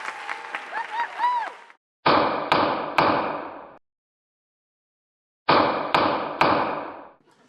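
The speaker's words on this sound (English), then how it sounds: "This is the sound of a gavel." A wooden gavel strikes in two sets of three sharp knocks, loud and close, separated by silence, with brief talk just before the first set.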